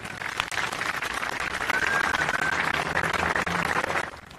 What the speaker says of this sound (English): Please give these students a round of applause, please.